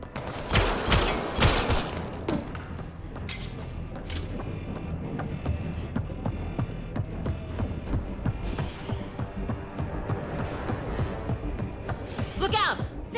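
Firefight in Mass Effect Andromeda, with dense bursts of video game gunfire and impacts, loud in the opening seconds and then a continuous clattering battle mix, with voices briefly heard.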